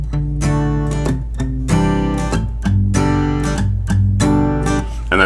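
Acoustic guitar strum pattern, palm-muted bass notes followed by a downstrum and a quick upstrum on the high strings, repeating chord after chord, close and alone.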